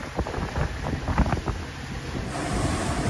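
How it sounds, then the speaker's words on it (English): Motorboat heading into the water on the way to Punta Gorda, throwing splash and spray: sporadic close splashes and slaps of water over a steady blustery roar of wind and engine, with no voices. "We're getting a little splash, a little spray."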